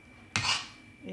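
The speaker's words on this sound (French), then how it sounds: "On va bien mélanger, on va bien chercher en dessous" A spoon scrapes and mixes cream in a bowl for a strawberry bavarois, giving one quick, sharp scrape followed by a softer stirring rub, quiet and close.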